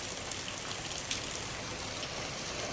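Heavy rain pours steadily onto a front yard during a thunderstorm in Frisco, Texas, a dense, even hiss of drops close by with no voices.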